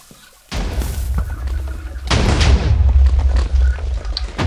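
TNT cannon blasts in the Minecraft video game: a heavy boom bursts in after a quiet start, followed by a second, larger rumbling explosion that keeps thundering loudly to the end.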